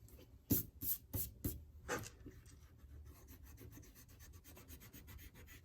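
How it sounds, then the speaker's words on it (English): An eraser rubs briskly across paper to remove a light pencil line beside a lettered name design, giving several strong scrubbing strokes followed by quieter, quicker rubbing. "Then I'll take my eraser and I'll go ahead and erase that pencil line."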